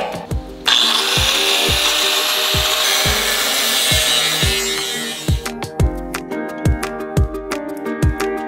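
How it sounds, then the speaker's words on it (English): Power saw cutting through a wooden beam in a home-build bathroom, a loud continuous rasping cut for several seconds, followed by a series of sharp knocks and taps as the cut finishes, no voices. "And then I'm just gonna cut this beam to that length."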